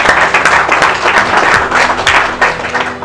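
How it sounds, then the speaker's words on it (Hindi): Sustained applause from an audience at an FPRT event, dense continuous clapping with a few sharper claps, loud and close, no talk over it. "एक बार जोरदार तालियां पूरी FPRT"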